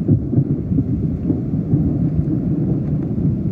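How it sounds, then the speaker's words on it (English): Loud, deep thunder from a lightning storm during a flash flood rolls on continuously, a low rumbling roar close by with rain mixed in and no talking. "More lightning."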